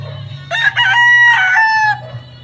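A rooster crows once, a loud, drawn-out call lasting over a second against a low steady hum.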